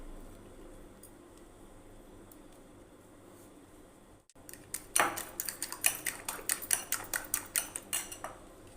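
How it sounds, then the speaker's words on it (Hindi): Two eggs beaten in a bowl for a spicy bread omelette, heard as a run of quick, close, rhythmic whisking taps and clicks that starts about halfway through after a quiet stretch, with no talking. "दो अंडे लेंगे, इनको अच्छी तरह फेंट लें"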